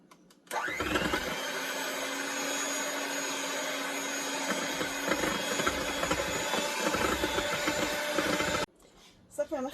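An electric mixer whirs steadily and loudly for about eight seconds, blending banana and apple cake batter, then cuts off abruptly, leaving brief quieter kitchen noise.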